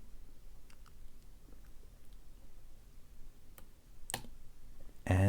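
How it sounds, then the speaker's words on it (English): Faint scattered clicks from a Hugo GR 3.5s euro profile dimple cylinder lock being picked, ending in a louder, sharper clack as the cylinder turns open, close and without talk. "And that opened the lock."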